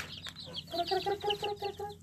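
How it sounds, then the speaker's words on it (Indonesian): A Bangkok fighting rooster clucks in a series of short, soft, evenly spaced notes, fairly close but quiet, over light background noise with no talk. "ini ayam bangkoknya biar dikeluarin sama Pak Anton dulu"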